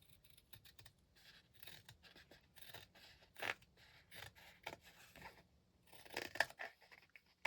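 Quiet, close snipping and crunching of scissors cutting through fabric, irregular strokes with short pauses between cuts.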